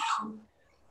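A single short sneeze bursts out close by and loud, then fades quickly into quiet room tone.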